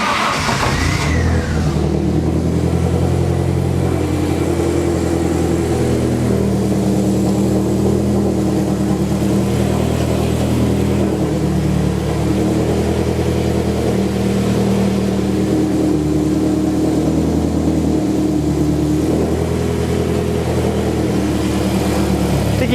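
A 2002 Turbo car engine with a fault that makes it stall when given gas, running loud and close: a brief rev at the start, then a steady rough drone throughout.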